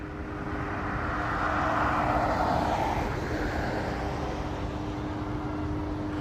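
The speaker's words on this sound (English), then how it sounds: "Yeah, the helicopter's still circling." A police helicopter circles overhead near a bus incident in Huntington Beach, giving a steady, moderately loud rotor and engine drone that swells slightly in the middle and holds throughout with no talking.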